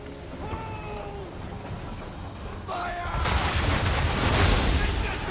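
Ship cannon firing grape shot in Assassin's Creed III, a loud booming blast that swells into a broad roar after a stretch of quieter ambient noise and sea sounds.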